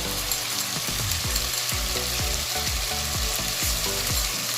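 Steady, dense sizzling of ginger garlic paste frying in hot oil, with intermittent scraping stirs throughout; close and fairly loud, no voices.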